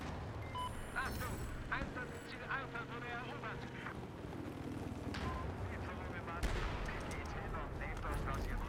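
Gunfire in a Battlefield 4 multiplayer match, with sniper shots from rooftops, scattered reports and a louder burst late on amid battle noise, under ongoing talk.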